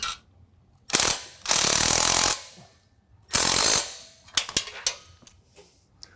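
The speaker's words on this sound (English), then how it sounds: "we're also going to use an electric impact driver along with the factory hardware" An electric impact driver fastens exhaust bolts on a 2022 Toyota Tundra, with loud, close hammering bursts of about a second each separated by pauses, followed by a few sharp clanks.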